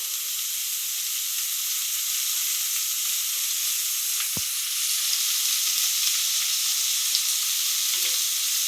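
Salted onions sauté in a hot pan with a steady, close, continuous sizzle and hiss, interrupted only by a brief clink near the middle and a soft scrape near the end.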